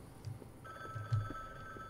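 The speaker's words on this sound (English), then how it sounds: "Oh, the phone's ringing." A telephone rings in The Bookwalker video game, a thin electronic ring tone that starts partway in and holds steadily, fairly quiet, with a few soft low thumps and no talking.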